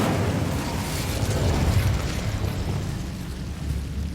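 A fiery spell goes off in Hogwarts Legacy, a steady roaring, rumbling blast of flame that holds loud and dense for several seconds with no let-up.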